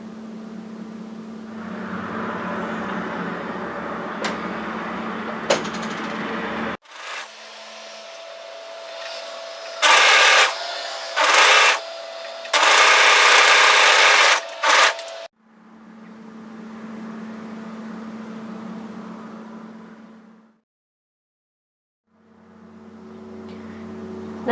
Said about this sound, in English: So now go across to the other side and overlock the other shoulder into place.